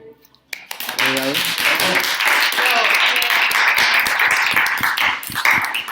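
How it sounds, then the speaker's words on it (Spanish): Audience applause breaks out after a talk on witches, a dense wash of clapping that starts abruptly and holds steady and loud, with voices mixed in underneath. "Aplausos."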